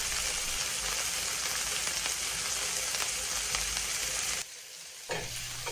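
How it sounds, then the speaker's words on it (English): A steak sears in searing hot oil with butter, rosemary and thyme, giving a loud, dense, continuous sizzle up close that suddenly drops away near the end, then resumes more softly. "put your meat right in that searing hot oil"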